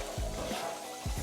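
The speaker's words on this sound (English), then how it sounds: "we'll just sweat off these onions in this delightful flavour" Onions sweating in a pan over low heat give a steady, soft sizzle with faint crackles, close and continuous, with low thumps from the pan now and then.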